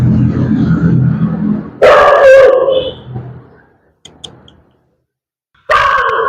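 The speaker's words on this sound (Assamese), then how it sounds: "এই কুকুৰটোৱে মানে মোক দেখি মানে ভকি আছে চাওক, ভৌ কৰি আছে চাওক" A dog barks beside a swollen, fast-flowing river during a flood. A loud roar of rushing water comes first, then two close, loud bursts of barking separated by a quiet gap.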